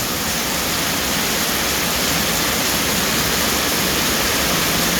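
Heavy rain pounding down with floodwater rushing along a road, a loud, steady, unbroken wash of noise throughout with no voices.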